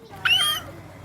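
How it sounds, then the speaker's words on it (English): A cat held upside-down by a seven-year-old child lets out a single short, sharp meow, close by, over faint room noise. "her 7-year-old walks in holding an upside-down cat"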